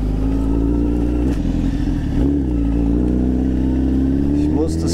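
A Honda CBR 1000 motorcycle, a loud rented bike in Thailand, holds a steady, droning engine note close by, with a slight dip and rise in pitch partway through.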